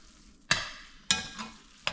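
A spoon scrapes through thick, dried-down tun cornmeal in a pot, three sharp stirring strokes about half a second apart, each trailing into a soft rasp with a faint sizzle.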